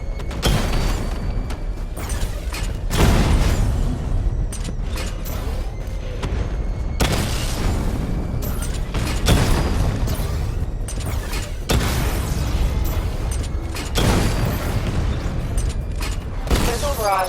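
In Batman: Arkham Knight, a powered-up secondary weapon fires and triggers heavy explosions. Loud booms and bursts strike every few seconds over continuous mechanical rumbling and clatter.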